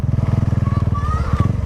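A nearby motorcycle engine throbs with a steady, rapid pulsing rumble on a street while people talk close by.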